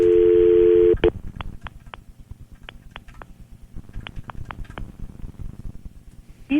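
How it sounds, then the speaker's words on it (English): A telephone dial tone cuts off and a series of short keypad dialing beeps follow in an uneven rhythm over a low background murmur. "Tried dialing 1."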